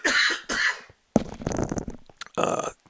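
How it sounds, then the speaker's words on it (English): A few harsh coughs close to the microphone, two quick bursts then a longer rough fit, with brief pauses between. "Excuse me, gonna cough."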